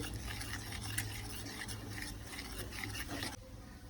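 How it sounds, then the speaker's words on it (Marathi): Gram flour (besan) batter for pithla is whisked steadily in a bowl, giving a continuous close scraping and stirring that runs for several seconds, then stops abruptly near the end. "बेसन आपलं आता चांगलं फेटून झालंय"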